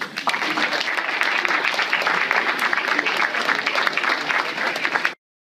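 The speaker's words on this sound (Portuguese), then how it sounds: "Salva de palmas, gente." An audience at a lecture on the pelvic floor bursts into sustained applause, a dense, close wash of many clapping hands that runs evenly for about five seconds and then cuts off abruptly.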